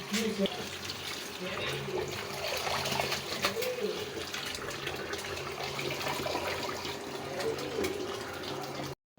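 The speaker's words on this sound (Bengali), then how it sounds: "বেসিনে হালাইয়া ভালো করে পরিষ্কার করে ধুয়ে নিব" Vegetables are rinsed under a running tap in a sink, a continuous steady splash and gush of water close by, with faint speech murmuring underneath, ending with a sudden cutoff.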